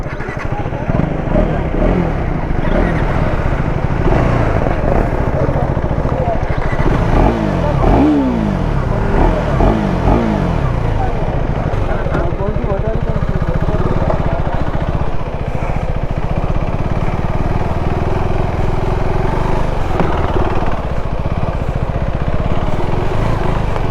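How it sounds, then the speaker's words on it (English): A 2025 KTM 390 Adventure S motorcycle ridden off-road, its single-cylinder engine droning and revving steadily up and down under loud wind buffeting throughout. "So we are going to be testing the KTM 390 Adventure S."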